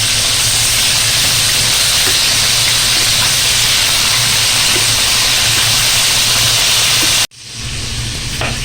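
Chicken wings sizzle and hiss steadily in hot frying oil, a loud, dense, continuous crackle that cuts off abruptly near the end and leaves only a faint residual hiss.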